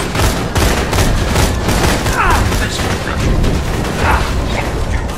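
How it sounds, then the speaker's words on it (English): A turret in the shooter game Borderlands 2 fires sustained rapid automatic bursts, loud and continuous, mixed with mechanical clatter and booming impacts throughout. "And a turret!"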